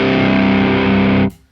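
An electric guitar plays through a BOSS JB-2 Angry Driver pedal with both drive circuits on: one loud, heavily distorted chord sustains for just over a second, then cuts off abruptly into silence.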